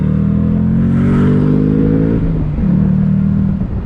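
A 2021 Shelby GT Speedster Mustang convertible's engine revs hard on throttle, pitch climbing loudly, dropping briefly, then settling into a strong steady drone close by.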